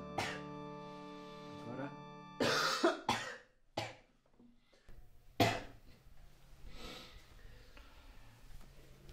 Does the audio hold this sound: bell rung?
no